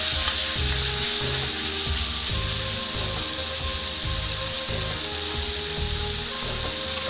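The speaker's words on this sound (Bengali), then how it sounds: "মাছ কটা লাল লাল করে ভেজে নেব।" Shrimp frying in hot oil in a pan with a steady, loud sizzle, broken by rhythmic scraping and stirring strokes as the pieces are turned, with no talking.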